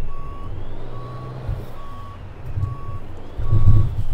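An articulated truck backs a trailer down a street in Euro Truck Simulator 2, its reverse alarm beeping steadily about once per second over a low diesel rumble that swells near the end.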